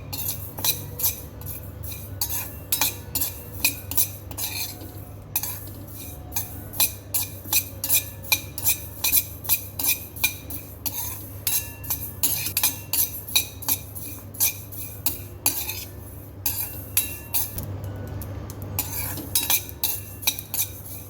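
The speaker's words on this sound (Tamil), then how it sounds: "இது ரெண்டுத்தையும் நல்லா ட்ரை ரோஸ்ட் பண்ணிக்கலாம் நல்லா பொரிஞ்சு வந்து ப்ரௌன் கலரில் மாற வரைக்கும் ரோஸ்ட் பண்ணி ஆஃப் பண்ணிக்கலாம்" Ingredients being dry roasted in a pan for mango pickle, with a steady run of metallic spoon scrapes and clinks against the pan, close and fairly loud, with no talking.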